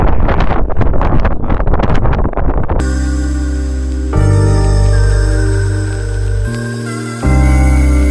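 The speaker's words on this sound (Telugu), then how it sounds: "గాలి అయితే ఫుల్ తోసేస్తాను." Strong wind on Mullayanagiri peak in Karnataka buffets the microphone in loud, gusty bursts for the first few seconds, then gives way to steady music.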